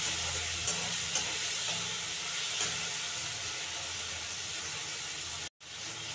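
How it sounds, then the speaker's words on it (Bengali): Potato and tomato with green chillies frying in a pan, a steady broadband sizzle with faint stirring scrapes, continuous and fairly close, cutting off abruptly near the end before resuming. "এই যে আলুটা আমার ভাজা হয়ে গেছে, আলু টমেটো"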